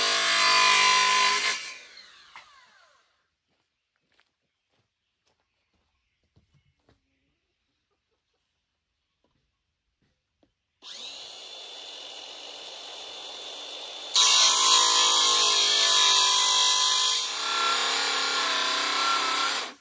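A power tool cuts the ends of a small 2-inch wooden section for a chicken coop roost, loud whining bursts at the start and again in the second half, separated by a long near-silent stretch.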